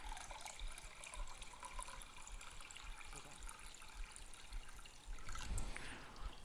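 Water is poured into a cooking pot while making crock pot red beans, a steady trickling, splashing pour that runs continuously at close range with a brief louder surge near the end.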